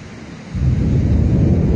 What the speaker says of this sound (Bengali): প্রচুর পরিমাণে বৃষ্টি হইতেছে, সেই লেভেলের বৃষ্টি হইতেছে।